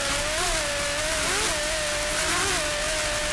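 Lamborghini-engined racing powerboats roar during the Miami Grand Prix superboat race, a loud sustained engine drone that rises and falls in pitch as the throttle shifts, over heavy wind and water rush.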